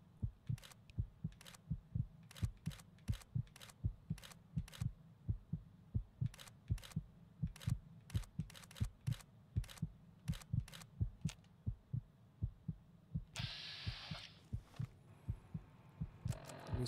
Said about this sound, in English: Listen to that heartbeat.